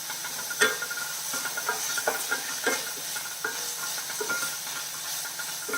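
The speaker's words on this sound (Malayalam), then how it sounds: "എടുത്തു വെച്ചിരുന്ന പച്ചമുളകും കൂടെ ചേർത്ത് കൊടുത്തേക്കാം" Green chillies frying in an oily pan with ladies finger curry ingredients, a steady hiss and sizzle with repeated spatula stirs and scrapes at a moderate, close level.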